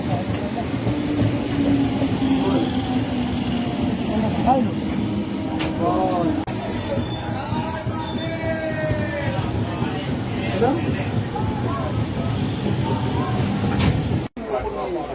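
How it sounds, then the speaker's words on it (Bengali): A Katwa local train rumbles past nearby with a loud, steady roar that lasts throughout, while people talk over the noise. "একটা লোকাল ট্রেন যাচ্ছে কাটোয়া লোকাল"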